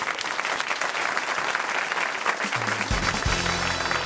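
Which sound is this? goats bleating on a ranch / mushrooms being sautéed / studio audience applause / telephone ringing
studio audience applause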